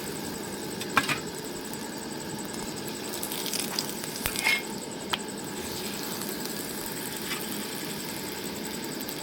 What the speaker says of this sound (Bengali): পরোটাটা এইভাবে উল্টে ওকে এর মধ্যে সাদা তেল দিয়ে দেব